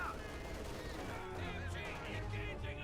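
Machine gun fire in Company of Heroes, a continuous dense rattle of rounds with other battle noise, fairly faint and steady throughout, partly under a commentator's voice.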